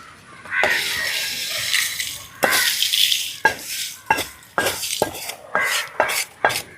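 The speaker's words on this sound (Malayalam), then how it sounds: "അപ്പോൾ ചൂടാറുന്ന വരെ നമ്മൾ ഇങ്ങനെ ഒന്ന് ഇളക്കിക്കൊണ്ടിരിക്കുക." Roasted chutney powder ingredients (Kerala chammanthi podi) stirred in a pan, giving bursts of dry scraping and rattling, a long continuous stretch followed by short repeated strokes, close and fairly loud with no talk.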